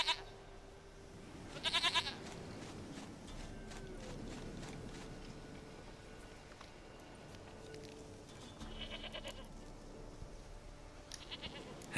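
Goat bleats in The Witcher 3, heard as a few short nasal cries spaced apart over a quiet outdoor ambience with faint hoof clops, fairly soft and at moderate distance.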